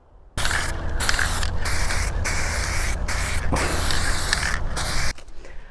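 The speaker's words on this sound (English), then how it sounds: "that's why I'll be spraying from a fair distance" A long continuous hiss of aerosol spray paint applied from a fair distance, broken by several brief pauses, loud and close, then cutting off abruptly.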